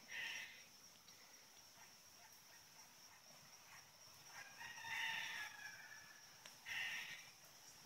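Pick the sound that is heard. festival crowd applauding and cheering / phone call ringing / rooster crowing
rooster crowing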